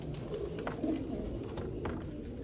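Pigeons coo steadily in low, throaty murmurs against a busy, noisy background, the calls overlapping without pause.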